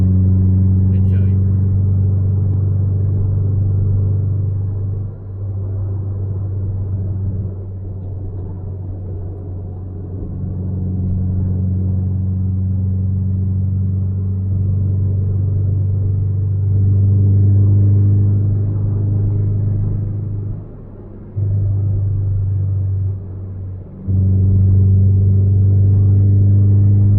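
A Toyota Vios with a 2ZZ-GE engine and Kakimoto Regu 06&R exhaust runs with a loud, steady low rumble, swelling and dipping in a few revs and brief drops over its length.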